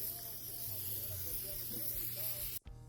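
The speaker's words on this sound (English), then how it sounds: "I buy can spray like this, and I just spray it all on the top like this" A can of spray starch hisses in one steady, close spray over jeans, then cuts off sharply near the end.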